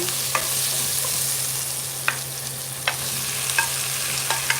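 Beef sizzles steadily as it fries in a pan while a utensil scrapes and taps against it a few times, close up, with a low hum in the background.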